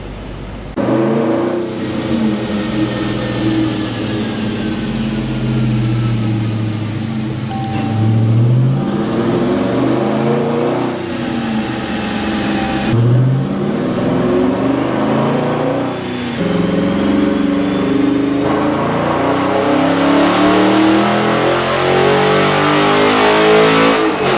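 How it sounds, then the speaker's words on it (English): A Dodge Charger Scat Pack on a dyno, tuned on 91 octane fuel, roars loudly as its engine is repeatedly wound up through the revs, pitch climbing in long pulls with brief dips between gears. "we got this Charger scat pack here on the dyno"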